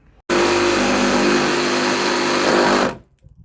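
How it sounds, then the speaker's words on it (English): Jigsaw cutting a Makita MakPac plastic case, a loud buzzing blade that starts abruptly, holds steady for about two and a half seconds, then stops sharply, up close and with no talk. "I will try this with the jigsaw,"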